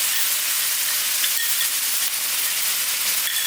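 Spice paste dropped into a hot pan for a Mumbai-style prawn bhuna curry, giving a steady, loud, bright hiss of sizzling oil throughout, with no voices.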